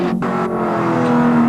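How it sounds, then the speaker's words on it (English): A 1987 Holden Commodore Group A race car in the Bathurst 1000 at Mount Panorama, its engine holding a steady, loud drone close by with a brief dip in tone, and no voices. "Win Percy in the Allan Grice Commodore, still running second in the great race"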